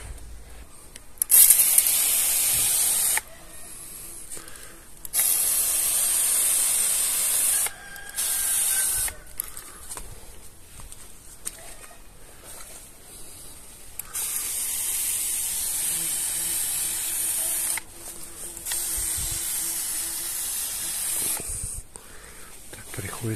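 A hand-pumped garden pressure sprayer hisses in long bursts as pest treatment is sprayed onto paulownia shoots in late summer, the spray runs alternating with quieter gaps of pumping and handling, close up, with occasional talk.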